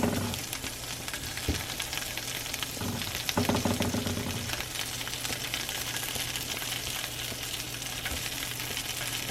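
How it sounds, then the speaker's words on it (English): Sausages browning in a pan, a steady close frying sizzle with a few faint clinks of utensils early on, no voices. "We're just gonna let these sausages brown."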